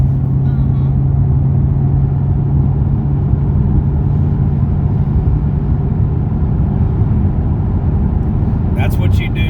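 A Shelby GT500 with a manual clutch drives along, its engine a steady loud rumbling drone from inside the cabin, with a brief rattle near the end and people talking over it.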